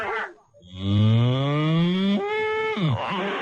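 A voice imitates a cow, giving one long drawn-out moo that rises and then bends downward, loud and close, with no other sounds around it.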